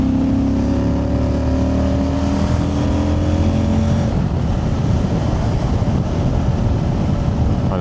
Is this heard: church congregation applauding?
no